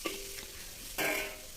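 Food is stir-fried in a hot pan, with a steady sizzle, a scrape of the spatula at the start and a louder burst of sizzling partway through, quiet and close, with no voices.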